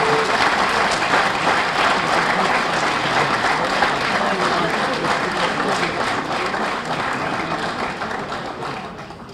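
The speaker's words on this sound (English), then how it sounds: "let's have one more round of applause for all of our inductees" Audience applause at an athletics hall of fame induction ceremony, a steady loud wash of many hands clapping that fades slightly toward the end.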